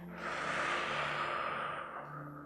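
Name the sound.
deep exhale during chair yoga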